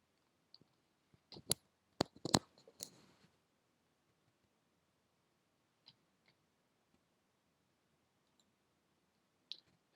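Several sharp computer mouse clicks, close and quiet: a quick cluster early on, then a few isolated clicks spread out over the following seconds in an otherwise silent room.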